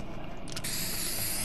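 An aerosol spray can hisses in a steady, continuous burst that starts about halfway in and runs to the end, close and fairly loud.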